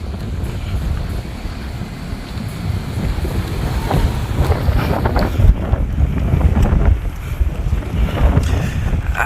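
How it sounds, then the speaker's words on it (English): Strong wind roaring and buffeting steadily, a continuous rumbling gust with no voices. "it's so windy now. It is so windy."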